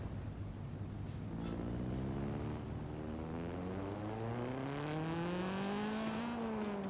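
A Honda Civic in the racing game Forza Horizon 5 drones and climbs through its revs, the engine and exhaust pitch rising steadily in a continuous loud pass with no talk.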